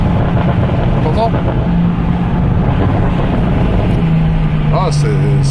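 Deep, buzzy drone of a BMW M4 fitted with a full straight-pipe exhaust, holding and lifting its revs under steady wind buffeting, with someone talking over the engine.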